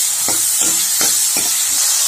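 Eggplant pieces sauté in hot oil with a steady sizzling hiss, broken by about five soft stirring scrapes at a regular pace.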